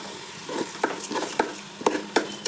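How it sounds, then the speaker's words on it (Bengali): Sliced onion lightly frying in a pan for mutton tehri, a low sizzle broken by a series of sharp clicks and scrapes from a spatula against the pan, close and moderately loud. "তারপরে পেঁয়াজটাকে একটু হালকা করে ভেজে নেব।"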